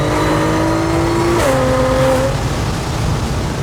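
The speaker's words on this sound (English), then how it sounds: "That supercharger is insane." A supercharged Audi S4 running on E40 fuel revs hard nearby, with a loud whining engine tone that climbs, drops sharply midway, then rises and fades back under a continuous rumble.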